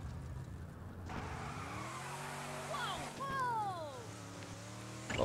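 Engine of a car driven in the video game Lego City Undercover, a steady revving drone with rising pitch sweeps and a brief tire squeal, under someone talking in Czech.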